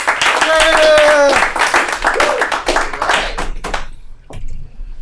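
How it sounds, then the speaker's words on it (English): A small comedy-club audience claps for an arriving comedian, a brisk burst of hand claps under a voice that fades out after a few seconds, leaving near silence with a stray clap. "Give a round of applause to Alan Ford"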